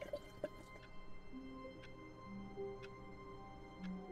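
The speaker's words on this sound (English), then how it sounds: "I'm pouring water." Water is poured and drips in a quiet indoor room, with soft splashes and trickling drops spread over a few seconds and no talking.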